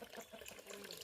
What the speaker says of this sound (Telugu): వాటర్ నిత్యం వస్తుందమ్మా